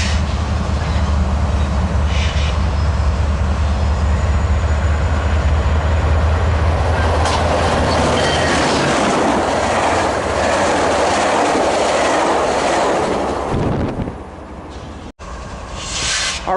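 A Metrolink passenger train rolls through Commerce station with a loud, steady rumble and rail clatter for most of the run, then fades out near the end.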